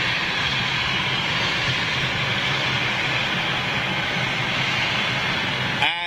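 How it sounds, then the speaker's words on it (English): A small Saab airliner flies inbound on approach at London City, its steady engine drone broad and continuous for about six seconds before cutting off abruptly. "It's just a little Saab inbound now."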